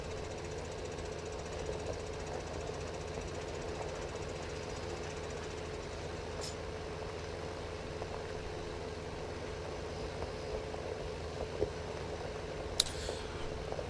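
In Farming Simulator 15, a tractor engine runs with a steady low knocking drone, faint and continuous, and two brief clicks sound near the end.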